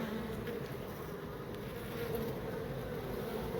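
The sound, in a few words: bees buzzing at a hive in a brick pillar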